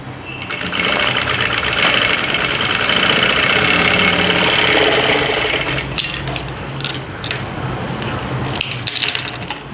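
Sewing machine stitching a round neckline: a fast, continuous mechanical whir that slows into shorter, intermittent bursts of stitching.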